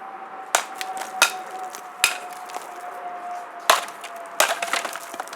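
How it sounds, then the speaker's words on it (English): Sharp, hard strikes of a Camillus Becker Companion BK2 knife blade land at uneven intervals, each a loud crack against a cinder block with crumbling debris, over a faint steady background hum. "just the force of the blows can shatter the cinder block almost instantly"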